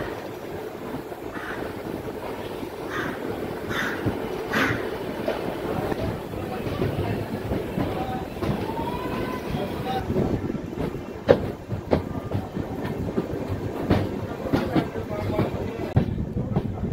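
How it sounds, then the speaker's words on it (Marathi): Rani Chennamma Express passenger train pulling out of Londa junction, a steady rumble of wheels and carriage noise with rhythmic clacks and knocks growing sharper toward the end, heard from on board with faint wind. "8:34 लोंढा जंक्शन वरून आपली ट्रेन निघालेली आहे"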